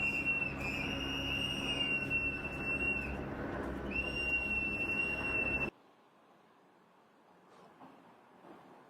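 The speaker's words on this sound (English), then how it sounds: "all around the Twin Cities, you hear these ear-piercing whistles" Shrill, piercing whistles blown repeatedly by protesters in the Twin Cities over a loud crowd din, several overlapping, then it cuts to a quieter outdoor scene.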